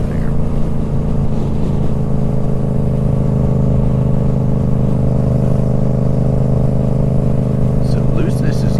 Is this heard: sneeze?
no